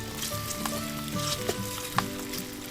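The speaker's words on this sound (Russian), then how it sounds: "Жарим ее на среднем огне." A flatbread fries in a couple of tablespoons of oil in a pan over medium heat, giving a steady close sizzle with a few sharp crackles and pops; no one speaks.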